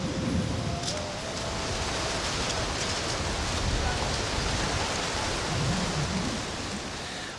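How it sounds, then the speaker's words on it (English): Strong sandstorm wind whipping up suddenly in an Indian garden setting, a loud, steady broadband roar with gusting rushes and scattered gritty patter throughout, close and enveloping. "What I hadn't expected was a sandstorm, which is really whipped up out of nowhere"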